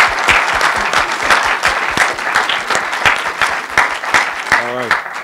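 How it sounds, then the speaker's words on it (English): An audience at a public meeting on energy claps, producing dense, steady applause that stays loud and even throughout with no pauses. "So let's give them a round of applause on the good work."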